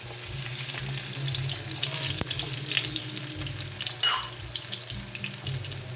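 Chopped ginger and garlic frying in a little cooking oil, a close steady sizzle with faint stirring scrapes and a brief clink, no voices.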